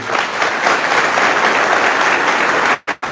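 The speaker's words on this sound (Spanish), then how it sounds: "Un fuerte aplauso para ellos" A church congregation applauds loudly during a Catholic talk by Padre Luis Toro, a dense, continuous roar of clapping that cuts out abruptly twice near the end.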